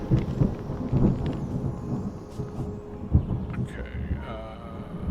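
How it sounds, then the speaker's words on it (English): Rumbling thunder rolls under steady rain in the video game Terra Nil, with a sharp thunderclap near the middle and a faint rising tone toward the end. "Here comes the rain."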